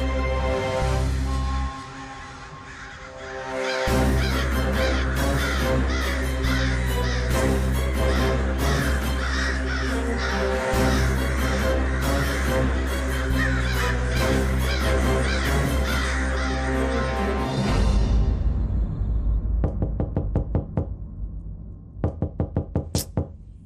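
A flock of crows caws loudly during a crow attack, harsh calls packed densely together over a steady droning bed, then thinning into a few sharp isolated cries and knocks at the end.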